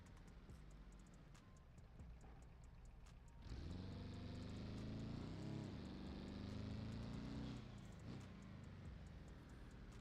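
Loud V6 engine of the SBR4 sports car in a racing video game, running in sports mode, rising sharply into a strong revving roar after a few seconds of quieter idle and holding steady near and loud.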